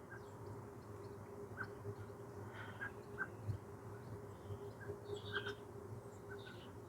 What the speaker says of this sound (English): There's a blackbird in the tree.